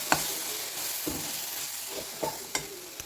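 A spoon stirs semolina into mashed fruit for a sweet, giving soft, faint scraping and sizzling with a few sharp clicks against the pan.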